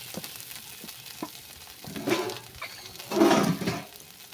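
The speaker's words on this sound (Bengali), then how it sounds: "আবার একটু নাড়াচাড়া করে, আমার মশলা থেকে তেল বেরিয়ে গেছে।" A spice masala with turmeric fries in oil while being stirred, with soft crackling broken by louder scraping, sizzling bursts near the pan.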